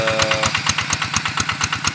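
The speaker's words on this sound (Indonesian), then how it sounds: "Ini pompa 6 in yang ditenagai oleh mesin diesel Kubota" Kubota 11 HP diesel engine driving a 6-inch Niagara water pump, running steadily up close with a fast, even chugging pulse and loud mechanical rattle throughout.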